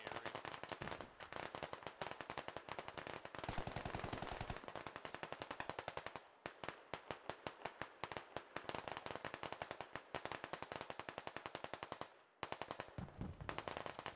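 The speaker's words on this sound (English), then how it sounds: "It's King making some good shots here." Rapid automatic gunfire in the military shooter Squad, sustained bursts of many sharp, loud cracks in quick rhythm with only brief pauses between volleys.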